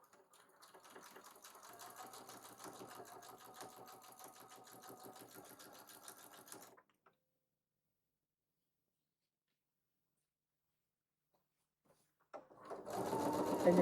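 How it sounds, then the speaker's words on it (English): Sewing machine stitching a quarter inch seam allowance on a quilt border block, a steady rapid mechanical chatter for several seconds, then silence before another burst of stitching starts near the end. "you're going to sew all the way down with a 1/4 inch seam allowance"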